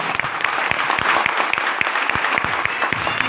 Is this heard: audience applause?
yes